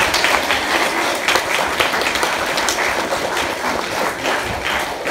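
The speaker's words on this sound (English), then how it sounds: "So huge round of applause," Young participants at a girls-in-STEM taster event give a big round of applause, a loud, close, continuous clatter of many hands holding steady for about five seconds with no speech over it.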